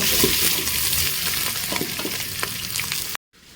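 Onions frying in oil and ghee with whole spices like cinnamon, cloves and cardamom for prawn biryani, a loud dense sizzle with scraping stirs that stops abruptly near the end.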